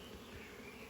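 Bees buzz steadily at the entrance of a small nucleus hive in a bee yard, a close, continuous insect drone with no pauses.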